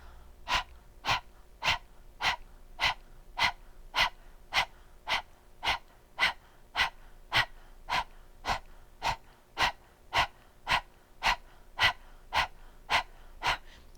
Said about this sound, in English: So on the H's again, inhale, release, and then pull in on the H.